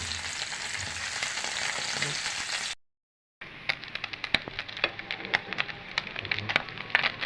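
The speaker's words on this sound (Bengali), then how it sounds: "এভাবে লাল লাল করে ভেজে নেব প্রত্যেকটা মাছ" Small river chanda fish fry crisp in hot oil, first as a dense, even hiss, then after a brief cut to silence as sparser crackling with frequent sharp pops, close and alone.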